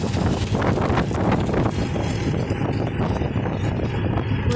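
Cold winter wind gusts roar steadily across the microphone outdoors in Siliguri, a loud, continuous rushing buffet with no speech.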